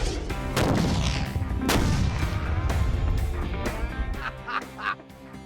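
A block of C4 plastic explosive is detonated in a test of injurious distance, a heavy rumbling blast followed by a long rolling, echoing roar that fades over several seconds, with no talk.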